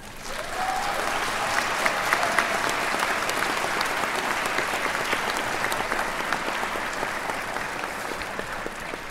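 Sustained, dense applause fills a university commencement ceremony as the crowd honours graduates' families, a loud continuous roar of many hands clapping at an even level throughout.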